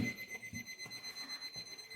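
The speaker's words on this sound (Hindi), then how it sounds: "अब मेरा अलार्म घड़ी बोल रही है" An alarm clock rings in a home, sounding a steady, shrill electronic tone that pulses evenly throughout at a moderate level.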